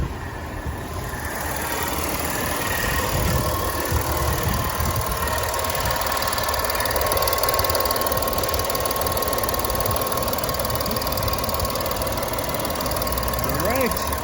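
A Volkswagen Touareg 3.0 TDI diesel engine idles after a fresh fuel filter change, a steady, even clatter heard close with someone talking over it.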